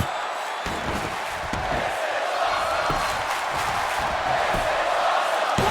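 A wrestling arena crowd in the WWE 2K22 video game roars and cheers continuously at a loud, steady level, with occasional thuds beneath the noise.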